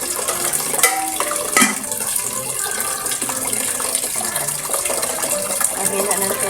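A kitchen tap runs water for cooking spaghetti, a steady close gush with clinks and knocks from the sink or pot.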